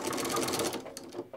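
A sewing machine whirs briefly in a quick, close burst as it stitches in reverse off the edge of a quilt during machine binding, then trails off.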